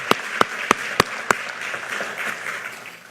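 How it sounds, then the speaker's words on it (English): At a conference, an audience applauds the event's sponsors. Five loud, evenly spaced claps close by open the moment, then a softer spread of crowd clapping takes over and continues. "let's give all of our sponsors a round of applause"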